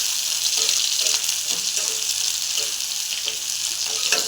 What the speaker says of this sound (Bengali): আমি এর সাথে রসুনটাও দিয়ে দেবো। দিয়ে এবার আমি ভাজবো।